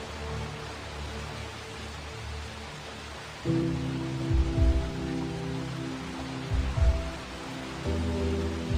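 Steady rain falls outdoors as a constant wash of noise, with a low engine-like hum entering partway through and a few soft thumps.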